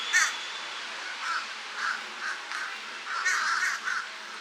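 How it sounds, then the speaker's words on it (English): Crows caw repeatedly outside at Disney's Grand Floridian Resort, a series of harsh, moderately distant calls spaced irregularly over steady outdoor background noise, with no one speaking. "And the crows are crowing."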